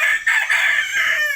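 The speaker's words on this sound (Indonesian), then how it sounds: "sudah mulai bunyi, udah mulai minta kawin ya, bunyi-bunyi betina kayak gitu kan" Hen clucking and calling while recovering from a respiratory illness, a continuous nasal, throaty vocalization close by, with brief dips but no pauses, and no other voices.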